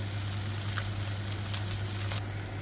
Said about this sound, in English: I've noticed that the Spam, you can see it's bubbling away, the fat is coming out